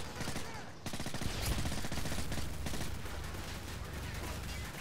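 Rapid, sustained machine gun fire in Call of Duty MW3 multiplayer, a dense loud rattle of bursts running continuously for several seconds with a brief break near the start.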